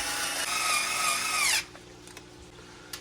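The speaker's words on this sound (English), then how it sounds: "there's these two longer screws to go down through the brace into the bulkhead" A power driver whines loudly for about a second and a half, driving screws through a brace into an Arrma Kraton EXB RC car bulkhead. The pitch drops slightly as it finishes, followed by quiet with faint clicks.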